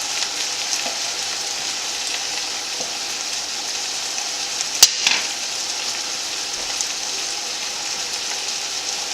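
A tablespoon of butter melts in a hot frying pan while cooking chicken rotini, giving a steady, soft, even sizzle with one brief clatter near the middle and no talking.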